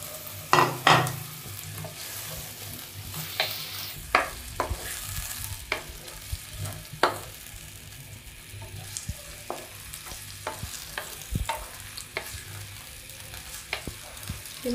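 Tomatoes frying with onions in a pan for a chicken chana dal, a steady sizzle with scattered scrapes and clicks of stirring throughout, fairly close and with no talk.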